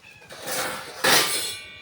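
A cat meows after drinking milk, giving two drawn-out, loud calls up close, the second one sharper and stronger.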